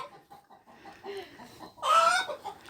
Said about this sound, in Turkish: Tavuk sesini özlemişsiniz çocuklar